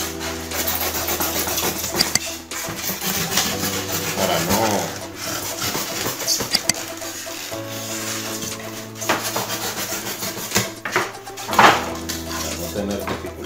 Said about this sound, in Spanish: Y vamos a cortar acá con una espinita.